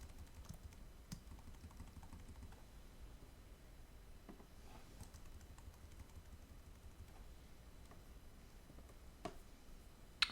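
Steady, faint keystrokes on a computer keyboard, with occasional sharper clicks above a constant low background hiss, alone without speech throughout.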